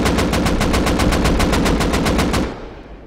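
Rapid automatic fire from a gun with a muzzle brake in the video game Rust, about fifteen evenly spaced sharp shots in a steady burst, loud and close, ending abruptly in a short fading echo.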